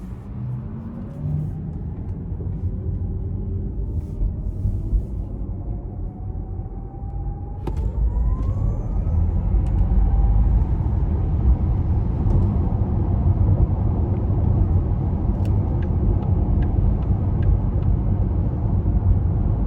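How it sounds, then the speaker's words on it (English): A 2020 Porsche Taycan 4S drives on the road, heard from inside the cabin: a deep, steady road and tire rumble under a thin electric motor whine that rises in pitch as the car accelerates, then holds at a louder cruising roar. "we're gonna go ahead and take this 2020 Taycan 4S out on the road for a test drive"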